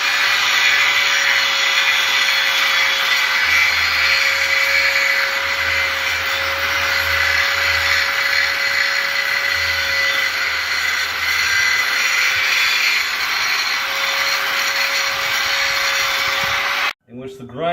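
Angle grinder with a grinding disc cleaning up welds on steel truck feet, a loud, steady, close high whine held for about seventeen seconds before it cuts off abruptly.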